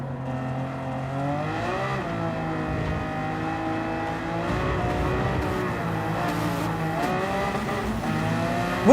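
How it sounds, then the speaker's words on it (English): A Gran Turismo 7 race car engine revs hard and continuously through its gears, a loud steady drone with rising pitch sweeps and occasional tire squeal, and no talk. "This is a car that you just need to rev out."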